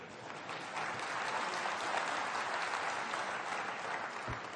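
A crowd at a presidential visit to HBTU in Kanpur claps steadily in a dense, even patter that holds throughout, soft and somewhat distant.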